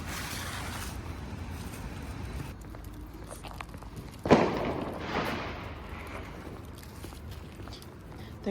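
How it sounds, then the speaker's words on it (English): Faint, distant pops and booms of fireworks in London over a quiet outdoor background, with one sharper crack standing out midway. "There's fireworks happening tonight"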